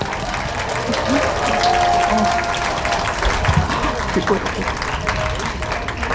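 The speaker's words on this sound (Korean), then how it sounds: "박수 한번 보내주시면" An audience at a self-advocacy speech contest for people with developmental disabilities gives loud, sustained applause, with cheering and voices mixed into the clapping.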